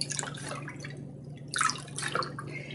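Water drips and trickles while a thick felted neck wrap is rinsed to wash out starch, irregular splashy bursts close by with a steady low hum underneath.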